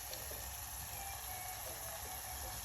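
Boiled pasta water is poured into a sizzling masala pasta mixture, giving a steady close hiss and watery bubbling that continues evenly throughout without any talking.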